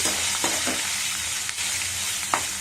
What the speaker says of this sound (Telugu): కొంచెం పసుపు అన్నీ వేసి తాలింపు బాగా వేగనివ్వండి